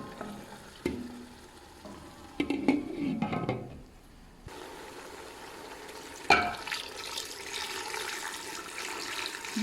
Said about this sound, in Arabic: هنا بديت أخلي ماء تقريبا يغطي الدجاج حتى يستوي الدجاج استواء كل زين